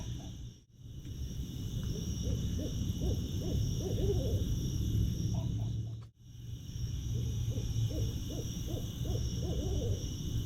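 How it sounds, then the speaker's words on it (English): A barred owl hoots in repeated phrased series of low calls, moderately close over a steady background hum, with a couple of brief breaks in the sound. "There's our Navy barred owl again"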